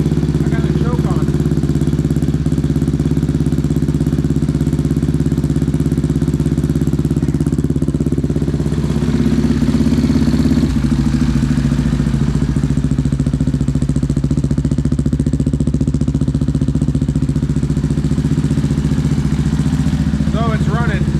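A KTM engine fitted in a Honda TRX450R quad runs on its first start with the choke on, a loud, steady, close idle with a rough mechanical clatter that continues unbroken, with brief talk over it.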